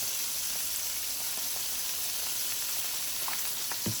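Green broccoli cooking in butter with seasoning salt, a steady close sizzle and frying hiss with a few small pops and crackles, and no talking.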